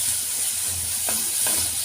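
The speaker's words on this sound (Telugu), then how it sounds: "మసాలా వేగిపోయింది." Masala spices frying in a pan while cooking batani kurma give a steady, close sizzling hiss with a couple of soft stirring scrapes near the end.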